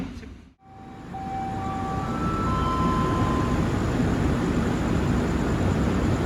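KA Blambangan Ekspres train running with a steady broadband rumble and hiss, after a brief dip at the start, with faint rising whistle-like tones drifting over the constant noise.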